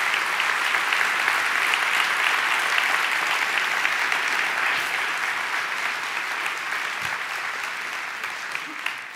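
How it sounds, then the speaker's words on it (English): A church audience breaks into sustained, loud applause, a dense wash of clapping hands that holds steady and then gradually tapers toward the end. "please stand so that we can give you a strong round of applause for your excellent"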